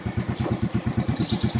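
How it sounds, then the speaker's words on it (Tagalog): Motorcycle engine idling close by, a steady rhythmic low putter of regular pulses with no speech over it. "sakay muna kami sa motor para marating namin ang bayan"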